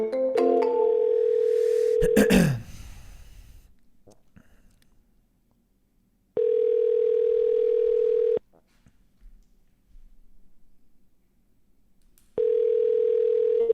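Telephone ringback tone during an office cold call: two long steady tones sound alone in a quiet line, following a brief burst of noise at the start.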